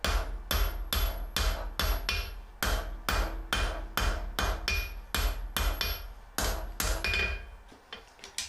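A blacksmith's hammer strikes a hot steel chisel blank on an anvil, drawing out the sharp end in sharp ringing blows, about two per second in short bursts with brief pauses, close and loud, no talking.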